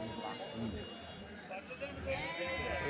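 Sheep and lambs bleat repeatedly at the Kadiri weekly sheep and goat market, with several close cries heard under ongoing talk from traders.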